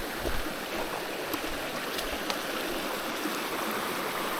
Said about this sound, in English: All those, that white water flowing into it.